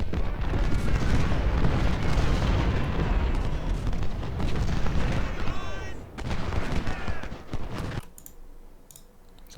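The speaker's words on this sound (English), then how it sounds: "all the cannons are wasting the shot on long range engagements" Cannons firing in Ultimate General: Civil War, a dense barrage of booming shots and crackling musket fire rolling continuously up close, easing off near the end.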